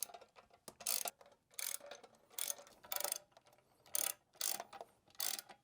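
A hand ratchet with a 16mm socket tightens bolts while an X-BULL 13,500 XRS winch goes onto a 12th-gen F-150: about seven short, crisp bursts of rapid clicking, close and fairly quiet, with brief pauses between strokes.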